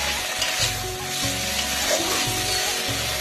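Chili paste sizzling loudly in a frying pan over fried onion paste, cooking down for a katla fish dish, a dense continuous hiss with rhythmic low scraping of stirring throughout.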